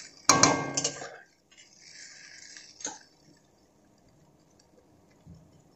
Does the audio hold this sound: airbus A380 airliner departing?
no